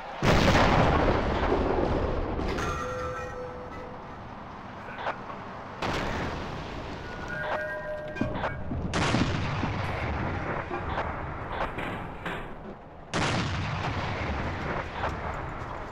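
A 152 mm ML-20 howitzer-gun M1937 firing in a Battlefield-style video game, three heavy booming shots spaced several seconds apart, each with a long rolling echo, plus distant battle noise and no talking.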